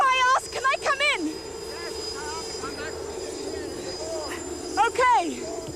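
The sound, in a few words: helicopter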